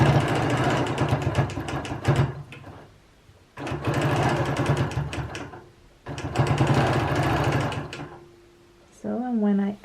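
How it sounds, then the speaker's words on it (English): A Bernina Q16 sewing machine does ruler-guided free motion quilting in three loud, fast-stitching bursts separated by short pauses, close by, with a brief voice at the very end. "I'm just going to place it somewhere and start quilting."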